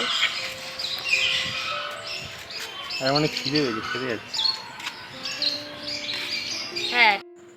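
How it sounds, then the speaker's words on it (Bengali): Various birds, including Java sparrows, chirp and call in an aviary at Garchumuk zoo, with bright tweets scattered throughout beneath nearby people talking. "এখানে প্রচুর পাখি জাভা স্প্যারো থেকে আরম্ভ করে নানান ধরনের নানান বর্ণের পাখি এখানে রয়েছে"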